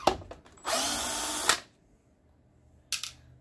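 Power screwdriver whirring as it backs screws out of a BenQ HT2050 projector: a loud steady burst of just under a second, a few short clicks before it and a brief second spurt near the end, close up with no talk.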